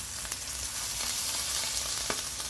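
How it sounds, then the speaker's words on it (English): Steak fat searing in a hot pan gives off a steady, close sizzling crackle with a few sharper pops. It carries on without a break and no one speaks over it. "And now we're going to sear our fat."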